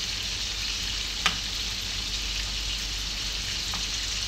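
Steady oil sizzle of galunggong fish frying in a pan, a dense crackling hiss with a single sharper pop partway through, no voices.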